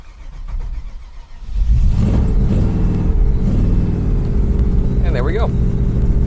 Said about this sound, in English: give it a little jab on the accelerator. There we go. And give it one more crank.